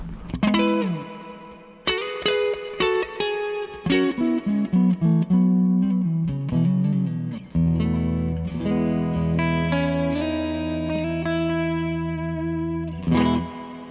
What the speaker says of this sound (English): You can really hear the individual reflections, which I really like. It's almost just like a really crammed delay pedal.